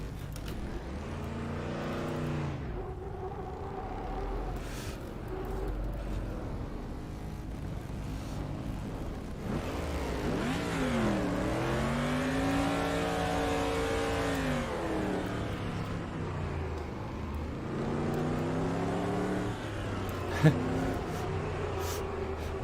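A super truck's engine revs and accelerates in the Automobilista racing game, a loud sustained drone rising and falling in pitch, with pack racing and steady, close engine noise throughout.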